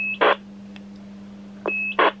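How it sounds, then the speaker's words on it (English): A CB radio's roger beep sounds twice: each time a short tone pip is followed by a burst of static, all over a constant low hum, heard near and clear. "I'd be remiss not to check the Roger Beep function"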